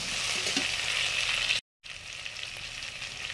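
Vegetables fry lightly in a pan, a soft steady sizzle heard up close, broken by a brief moment of silence before the hiss resumes.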